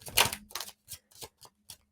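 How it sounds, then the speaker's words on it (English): Tarot cards being shuffled up close, with a run of crisp papery slaps and riffles that start loud and thin out into a few lighter taps. "I'm going to shuffle while I talk about this."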